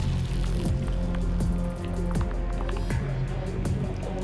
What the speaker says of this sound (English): And then we got the raindrops.